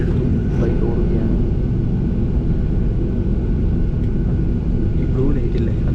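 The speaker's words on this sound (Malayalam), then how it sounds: "അങ്ങനെ ഫ്ലൈറ്റ് എടുത്തു. ഫ്ലൈറ്റ് ഓടുകയാണ്." Passenger airplane taxiing on the runway heard from inside the cabin, a loud continuous low engine rumble and hum with steady roar throughout.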